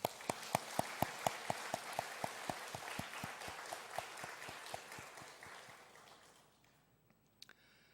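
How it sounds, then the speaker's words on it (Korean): A church congregation claps together during a Sunday worship service, starting as steady, evenly spaced claps in unison and then dissolving into a scattered ripple that fades to near silence, with a few final stray claps. "하나님 앞에 우리 영광을 돌리는 박수 한번 했으면 좋겠습니다"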